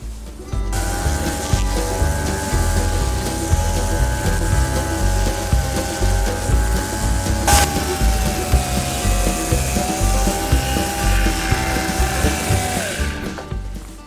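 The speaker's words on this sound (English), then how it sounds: "And sanding is so oddly satisfying." A power sander works over wood cladding on a van roof, a loud continuous whirring drone up close with slight pitch shifts as pressure changes, running nearly the whole time before stopping.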